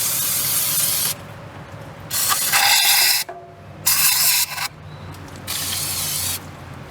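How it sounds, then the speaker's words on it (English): Brake cleaner aerosol sprays onto an oily Toyota Camry four-cylinder engine around the valve cover and spark plug hole, in four loud hissing bursts of about a second each with short pauses between them. "I'm using brake clean to clean it."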